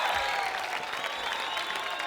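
Dense, steady audience applause fills the full two seconds at a fairly loud level, with a faint undertone of crowd noise beneath the clapping.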